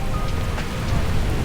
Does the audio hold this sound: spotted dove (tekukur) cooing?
no